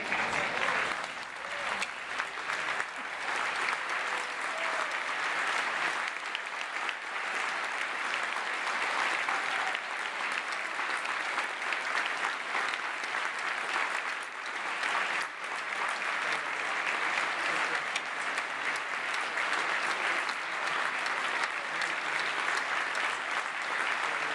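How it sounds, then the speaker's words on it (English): An audience at a sheriff's inauguration gives a steady, sustained round of applause, dense and even with no pauses, lasting over twenty seconds. "if we all stand in applause of Sheriff Mike Hennessy"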